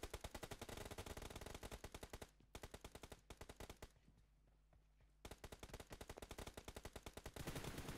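Rapid automatic gunfire in a PUBG Mobile or Free Fire match, loud dense bursts of shots with a short lull in the middle before the firing resumes, no voices over it.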